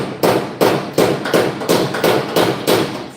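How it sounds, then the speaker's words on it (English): Hammer tapping an upper metal part to bring it into line, seven sharp, evenly spaced blows, loud and close, with a short ringing decay after each. "Now I'm going to take my hammer here"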